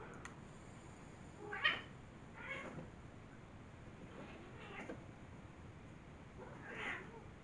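A house cat meows several times, a sharp clear cry first and then softer drawn-out calls spaced a second or two apart against a quiet room.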